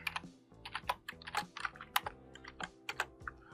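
Close, quiet typing on a computer keyboard, with quick uneven clusters of clicky keystrokes and short pauses between them.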